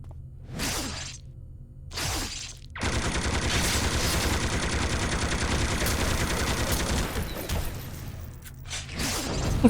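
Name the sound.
Gatling gun firing in a video game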